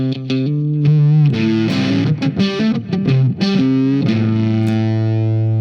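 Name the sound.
electric guitar through fuzz pedal distortion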